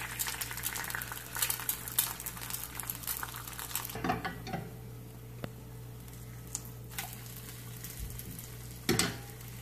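Crackling sizzle of eggs frying in a pan, dense at first then thinning out, with occasional clicks and scrapes of utensils.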